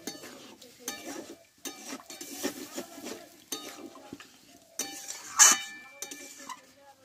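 A spatula stirs potato and eggplant curry in a pan, with close scraping strokes and metallic clinks against the pan in an irregular rhythm and a sharper clank near the end.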